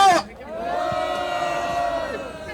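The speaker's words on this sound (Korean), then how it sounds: "함성으로 모시겠습니다." Crowd cheering to welcome a women's group leader at an outdoor seniors' political rally in front of Tapgol Park, a sustained collective shout held steadily after an amplified voice cuts off.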